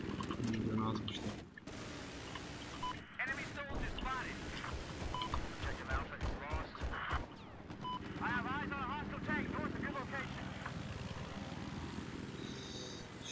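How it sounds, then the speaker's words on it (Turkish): Scout helicopter in Battlefield 4 on the Silk Road map, a steady whirring rotor drone with in-game weapon fire and effects throughout, while a player talks over it. "Şurada helikopter bizimkileri kıstırmış."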